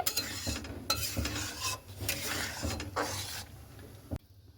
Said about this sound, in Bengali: এখানে কিন্তু অনবরত আমি দুধটাকে মানে নাড়তে থাকছি